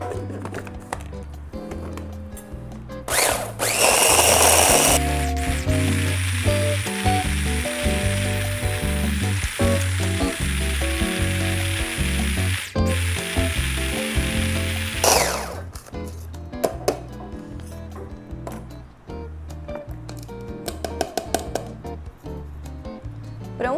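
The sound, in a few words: blender grinding coarse salt with seasonings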